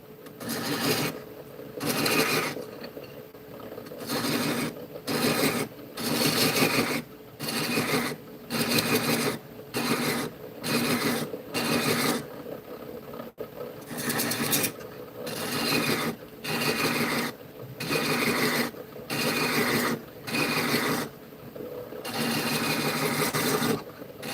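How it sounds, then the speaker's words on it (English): Rhythmic rasping of a thread chaser cutting threads, repeated back-and-forth scraping strokes in a steady pattern with brief pauses between them, close and fairly loud, no voices. "Never really done thread chasing before. But we are starting to get some threads in there."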